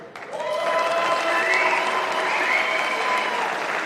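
Spectators at a squash Eredivisie match clap for the players in a steady, full round of applause that starts suddenly and holds at an even level throughout.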